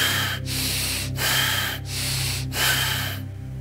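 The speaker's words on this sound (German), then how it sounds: "Deep and fast, rasping breath, deep and fast." Deep, fast, rasping breaths repeat during a meditation exercise, with about five loud, harsh in-and-out cycles in quick rhythm, close and alone without talk.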